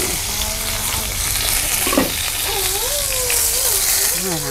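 Freshly caught fish fry in a pan with a steady, dense sizzle and crackle throughout, as a person speaks softly over it.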